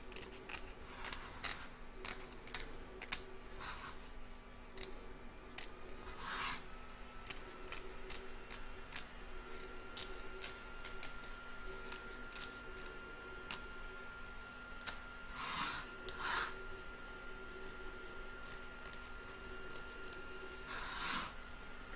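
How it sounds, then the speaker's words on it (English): Scissors cutting fabric close to an appliqué stitch line, a quiet series of irregular snips and clicks spread over a faint steady hum, with no talking. "So I'm just using my scissors and cut into it."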